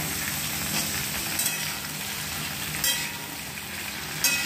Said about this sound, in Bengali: এবার ডাঁটাগুলো দিয়ে দিল, এটা একটু ভাজা হয়ে গেছে। ঝিঙেগুলো দিয়ে দিলাম।